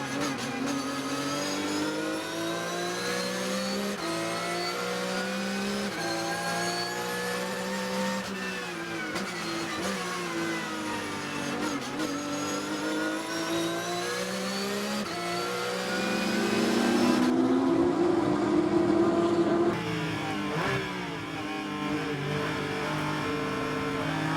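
A 2022 Porsche Cayman Club Sport 3.8-liter race car engine howls through repeated rises and falls in pitch as it accelerates and shifts, loud and close from onboard during a race at Daytona, with no talk.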